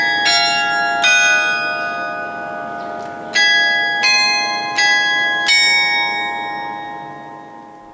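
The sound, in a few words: church bell ringing at Gyeongju First Church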